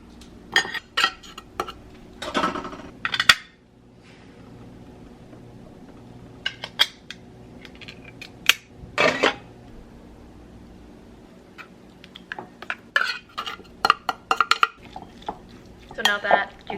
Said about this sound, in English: So I just kind of like scrape it all out.